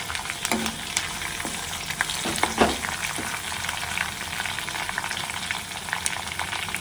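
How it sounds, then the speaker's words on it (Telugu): Dried red chillies and curry leaves frying in hot oil for a homemade tomato pachadi, stirred in the pan: a steady close crackling sizzle with scraping stirs and occasional sharper pops. "ఎండుమిర్చి వేస్తున్నాము, కరివేపాకు అన్నీ వేసేసి ఇప్పుడు ఇవన్నీ బాగా వేపుకోవాలి."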